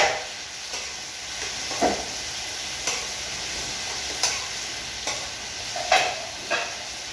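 Chopped tomatoes fry in a pan for a tanigue fish dish with tausi, a steady soft sizzle punctuated by periodic scraping stirs of a utensil against the pan, close and alone without speech.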